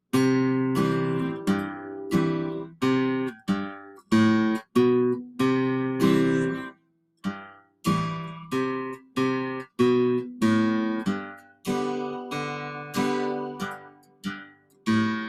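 Plucked acoustic guitar playing a steady etude, bass notes alternating beneath repeated chords in an even rhythm, close and clear with brief pauses.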